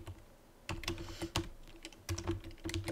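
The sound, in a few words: typing code on a computer keyboard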